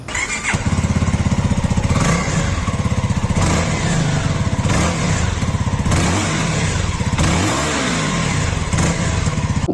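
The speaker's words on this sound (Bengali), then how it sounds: "বাইকের এক্সস্ট সাউন্ডটা পুরাই বম" A Keeway K300R motorcycle's exhaust runs loud and close for the whole stretch, a steady throbbing engine beat with the revs rising and falling in several swells.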